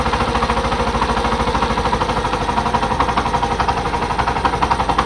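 A Hero Passion Pro i3s BS6 motorcycle engine with a bad connecting rod runs loud and close, with a rapid, rhythmic knocking clatter throughout under steady engine noise.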